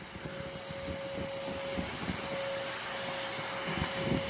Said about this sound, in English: Doing a lot of excavating with the vacuum.